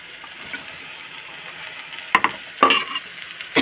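Beetroot pieces with softened onion are stirred in a frying pan, giving a steady low sizzle broken by a few sharper scraping stirs near the end. No voices are heard.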